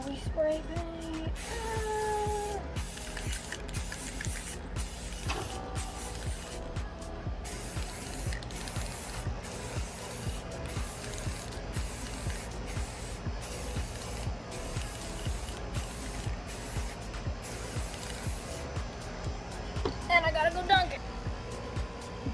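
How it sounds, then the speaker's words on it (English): Steady spray-paint hiss coating an epoxy glitter tumbler, running continuously with short bursts and brief pauses, fairly close and moderately loud, with a short louder rattle near the end. "And now we spray paint."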